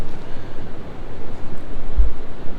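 Boundary Waters river at record high water in spring, a steady broadband rush of water pouring over rock, heard from nearby with some wind buffeting the microphone and no talk.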